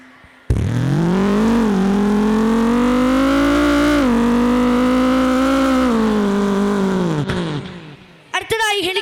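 A voice mimics a motorbike passing, a sustained loud engine-like drone that rises and holds steady for several seconds before fading out, followed by a brief burst of other vocal sound.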